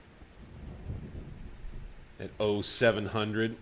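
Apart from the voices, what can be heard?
rain in the video game Grand Tactician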